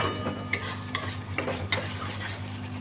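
Paneer masala seasoned with Kashmiri red chili powder is stirred in a hot pan, soft sizzling under a series of distinct spoon scrapes and taps, about five strokes in under three seconds, close and clear.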